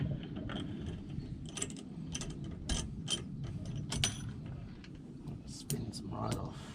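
Wheel nuts spun off a Saab 9-5 wheel hub: soft, irregular metallic clicks and rattles close by, with low murmuring and breathy handling noise throughout.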